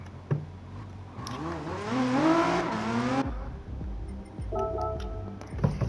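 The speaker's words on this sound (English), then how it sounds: "He passed right by me in the Lamborghini Aventador." Lamborghini Aventador race car sweeping past in Gran Turismo 7, a rising and falling engine whine that swells over a couple of seconds then cuts off, followed by fainter engine tones and thumps.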